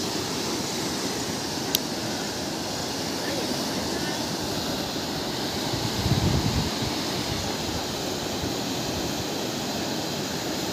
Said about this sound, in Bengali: এইখানে টার্নিং মোডে, তার জন্য একটু ঢেউটা বেশি উঠছে